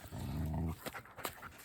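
A big male dog gives a deep, rumbling growl that lasts under a second, close and loud, then breaks into short huffs and panting.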